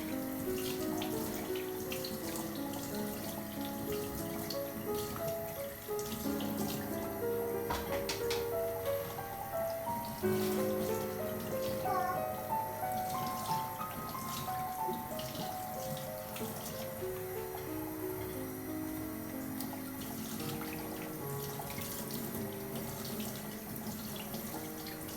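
Garden eggs being rinsed under a running kitchen tap for a Nigerian garden egg stew, a steady stream of water splashing continuously with soft handling noises throughout, close and fairly loud, no talking.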